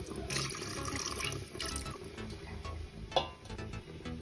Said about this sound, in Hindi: मैं अभी इसमें गर्म पानी को ऐड कर रही हूँ।